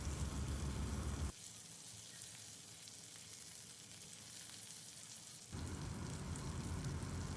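Basa fish fillet searing in garlic butter in a pan. A loud, steady sizzle plays alone, drops to a quieter, softer frying hiss for a few seconds, then swells back to full loudness.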